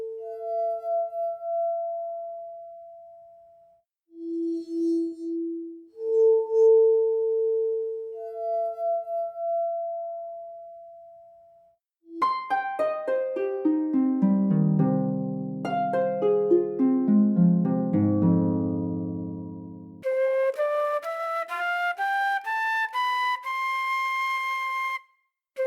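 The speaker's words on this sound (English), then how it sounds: "The magical, continuous, and resonant sound produced by rubbing a finger around the rim of a glass is visualized here" A finger circling the rim of a wine glass sings in pure, sustained tones that glide between pitches, later joined by richer, layered harmonic notes, loud and continuous with brief gaps.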